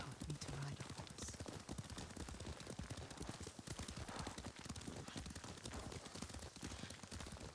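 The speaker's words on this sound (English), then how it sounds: "Lord Sakai taught me to ride a horse." Horse hooves clip-clop steadily at a riding pace in Ghost of Tsushima, a dense continuous rhythm of close, loud steps with no talking over it.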